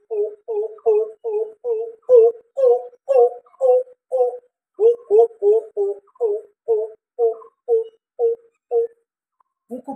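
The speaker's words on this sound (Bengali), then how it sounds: "যাকে কুকো পাখি বলে আমরা চিনি। কুকো পাখি ডাকছে।" A coucal gives its deep, hollow hooting at dawn: a long, steady run of evenly spaced low notes, loud and close, with a brief pause midway and no other sound.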